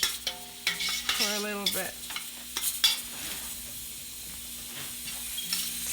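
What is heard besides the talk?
sauteing spinach in a pan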